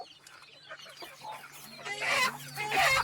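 Chickens cluck on a farm where an 800-gram rooster is being weighed for sale, soft scattered clucks building to louder bursts near the end over a low steady hum.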